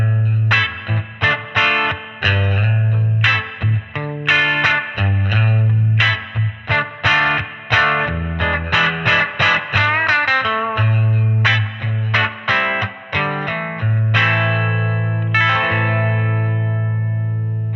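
An electric guitar through a clean-set Kazrog Airline V15 amp plugin plays a melodic riff with sustained notes over a steady low 60-cycle hum, bright and slightly buzzy, with no one speaking.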